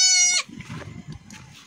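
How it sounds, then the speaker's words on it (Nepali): A goat gives one loud, close bleat, followed by quieter low rustling and faint background activity. "आज चाहिँ हाम्रो बाख्रा ब्याह हैन नि हेर्नु न"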